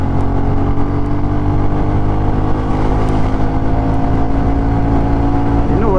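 A Royal Enfield Classic 350 motorcycle with a modified exhaust accelerates at speed, its loud, steady, deep engine roar and exhaust drone rising continuously, close up and dominating throughout.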